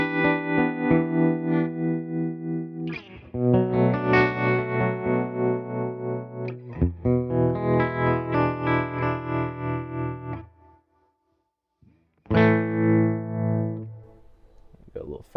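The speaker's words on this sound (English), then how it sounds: "And this guy is the tremolo on this thing, which sounds incredible." An electric guitar runs through the tremolo on a Tone King Imperial tube amp, its clean chords pulsing in a steady rhythmic throb, close and moderately loud, with a brief silent gap before a final chord.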